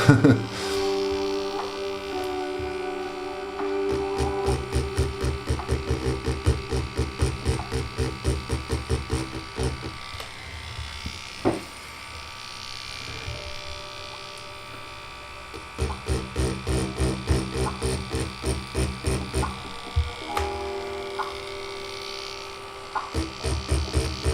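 A fairly quiet tattoo machine buzzes steadily while tattooing a design on paper, running in long close bursts with short pauses between them, and a voice talks over parts of it.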